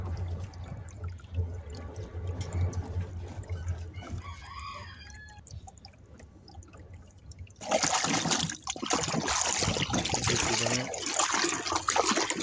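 A vitamin supplement is stirred into water in a goat trough, with a steady splashing rush in the second half. A rooster crows and chickens cluck nearby throughout.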